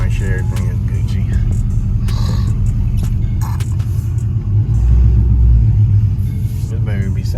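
A widebody Dodge Scat Pack's engine rumbles loudly and deep from inside the car on a test drive, swelling briefly as it accelerates, with a voice talking over it.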